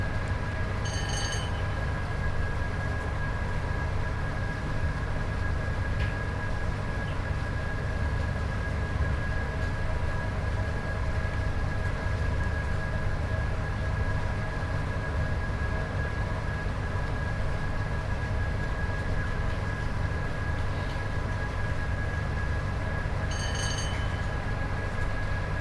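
A Class 87 electric locomotive climbs a steep gradient in Train Sim World 5, a continuous heavy rumble and steady electrical whine with a couple of brief bell-like signal tones, no talking.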